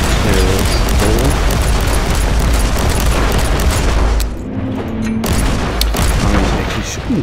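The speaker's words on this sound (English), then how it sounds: "I actually shouldn't use the grenade as easily as I do right now" Grenade blast in the video game Warhammer 40,000: Inquisitor, a loud booming burst amid dense gunfire and chaotic combat noise, with a brief dip before the din resumes.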